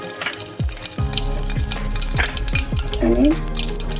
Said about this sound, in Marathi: जिरं घालतं एक छोटा चमचा आणि कढीपत्ता घालते